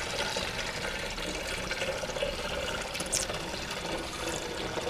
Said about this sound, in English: So pouring the apple juice right into the container we're going to use to ferment this in.